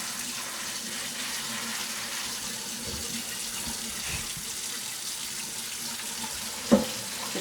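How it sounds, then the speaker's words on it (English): A kitchen tap runs steadily while a cutting board is rinsed during menudo preparation. The water noise is constant, with a single sharp clink near the end. "I'm going to wash my board a little bit just to get it out of the way."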